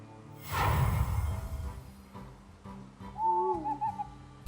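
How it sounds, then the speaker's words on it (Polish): An owl hoot plays from a card in the Hearthstone video game, a soft breathy whoosh followed by a couple of clear, wavering hoots, fairly quiet and alone. "Sowa."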